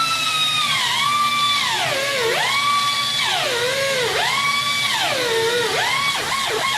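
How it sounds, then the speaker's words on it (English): An air angle grinder fitted with a fiber wheel cleans a leaking tire bead, giving a loud, close, continuous whine that repeatedly rises and falls in pitch as the tool is kept moving, with no talking. "I'm going to be using a fiber wheel on my air angle grinder"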